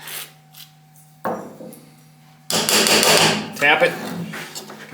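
Metal taps and knocks sound on the screw of a rusty, weathered vintage wooden hand plane's blade, followed by scraping and rubbing of tools on the workpiece, close and fairly loud, with brief hums between.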